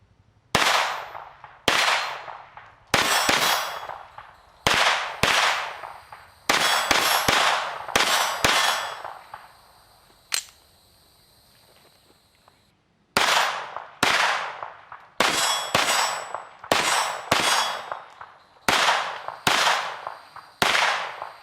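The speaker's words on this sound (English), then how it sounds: "Got a few steel plates set up behind me, so I'm going to step around, take some shots" Shots from a Smith & Wesson SW22 Victory .22 pistol with a 5.5-inch barrel strike steel plates. Sharp cracks are each followed by a ringing metallic clang, in irregular strings with a quiet pause midway.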